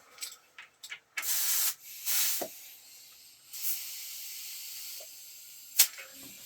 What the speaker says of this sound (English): Boy, that compressor is such overkill.